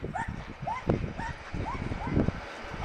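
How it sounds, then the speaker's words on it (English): A dog on a walk to the Kingscote post office on Kangaroo Island gives a quick run of about six high, excited yips and barks, close and evenly spaced, over busy background noise. "Another jumping dog."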